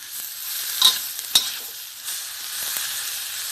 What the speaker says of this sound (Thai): ผักกาดที่เราลวกไว้ ใส่ไปเลย ลงมาผัดกับพริกแกงหอม